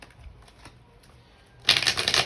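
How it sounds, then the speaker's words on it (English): Quiet soft taps and rustles, then a loud, rapid riffling burst as tarot cards are shuffled close by. "I'm going to shuffle again."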